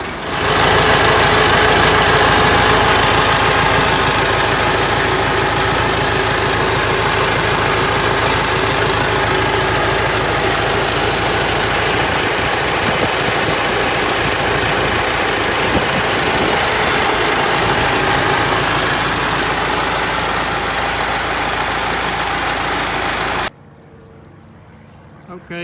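A Ford tractor's diesel engine, just back from an injector rebuild, idles loudly and close with a steady knocking clatter for over twenty seconds, then cuts off abruptly near the end.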